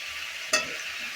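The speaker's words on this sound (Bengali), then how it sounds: "এখন আমি এই কুমড়োটা আর হলো আলু একসাথে দিয়ে দেবো" Pumpkin and potato pieces are tipped into a hot pan in a village kitchen, making one brief clatter against a steady background sizzle of frying, with no talking.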